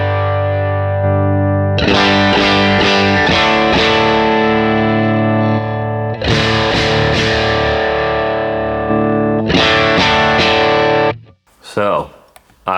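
Electric guitar played through effects for worship-style tone with distortion and chorus while the phase switch is toggled, heard as three loud, sustained chord strums with decaying tails, followed by brief handling noise at the end.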